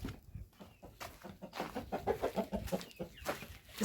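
Shamo chickens cluck at feeding time, a cluster of soft, rhythmic clucks and calls at moderate distance, fairly faint with light background noise.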